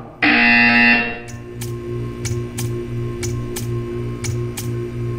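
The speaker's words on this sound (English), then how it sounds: "When you hear the buzzer, stare at the art." A loud electronic buzzer blares for about a second in Portal 2, followed by a steady hum with regular ticking clicks.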